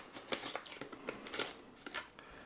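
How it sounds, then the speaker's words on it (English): A very sharp knife slices a ridge out of a foam block for a recess, making a series of quiet, crisp scratchy cuts in an uneven rhythm, close up with no talk. "using the space that we've got and the very sharp knife, cut that ridge out"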